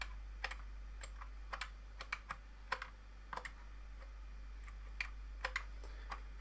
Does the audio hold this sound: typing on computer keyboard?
yes